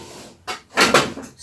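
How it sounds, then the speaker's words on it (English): Metal storage drawers in a craft room slide and bang shut: two loud clattering rattles close by, the second longer and harsher, with no talk. "These are metal drawers. They make a lot of noise."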